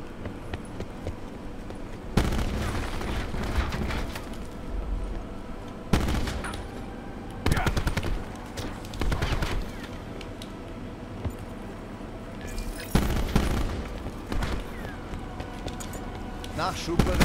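Repeated bursts of video-game gunfire from Black Ops 4, a dense volley followed by several loud, sharp clusters of shots spread through the clip, with players talking over the action.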